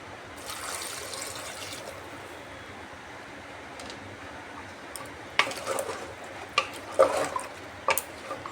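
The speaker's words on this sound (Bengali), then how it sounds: "এবার পরিমাণ মতো জল দিয়ে দিচ্ছি" Water is poured over chopped ash gourd and mung dal in an unlit pressure cooker: a steady splashing trickle for a couple of seconds, then quiet, followed by a few sharp clinks and knocks.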